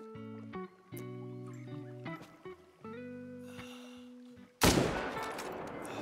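A single loud, sharp rifle shot from a .300 Magnum rings out near the end of a hunting video game scene set at Te Awaroa during a red deer hunt. Game music plays before the shot, and the blast decays quickly.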